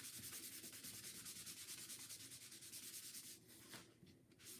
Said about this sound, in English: we're going to wax our tag and our snowflake